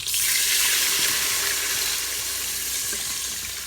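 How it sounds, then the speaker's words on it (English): Beef broth, about two cups, poured into a hot Instant Pot after browning a pot roast, a steady close liquid rush with a light sizzle against the seared bottom, continuous and fairly loud. "I'm adding 2 cups of beef broth"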